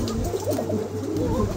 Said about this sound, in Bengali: চমৎকার একজোড়া সাদা কিং আছে মাশাআল্লাহ, দুটো কবুতরই একদম শো কোয়ালিটি